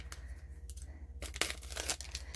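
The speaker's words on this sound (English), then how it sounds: "I'm going to just get my scissors here and cut it open." Plastic packaging crinkles and tears, with a few quick scissor snips and ripping bursts in the second half as the package is cut open, close and fairly quiet.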